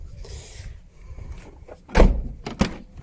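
The rear hatch of a VW Mk2 Golf 1.6D is opened: a soft rustle and latch handling, then a sharp close thunk followed by a second lighter clunk.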